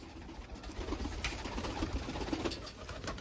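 Soft, repeated cooing of pigeons close by, several low throaty calls in an uneven rhythm over a quiet hum of background noise.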